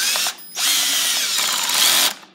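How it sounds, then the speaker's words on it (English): A power drill drives a 1.25-inch screw down into a bullpup stock on a Ruger 10/22, a close, loud whirring run broken by a brief stop, then a longer steady spin before it cuts off. "Start it, take the drill"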